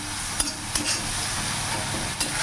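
A spice paste with Kashmiri chili and ginger paste sizzles in a pan for a fish curry, a steady close hiss broken by a few sharp clicks of a spoon stirring against the pan.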